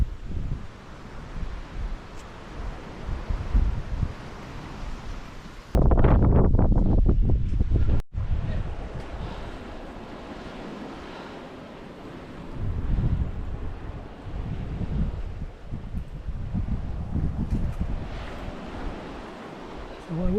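Ocean waves wash onto a beach on a hiking trail as wind buffets the microphone, with a steady surf roar, a sharp loud gust midway and people talking.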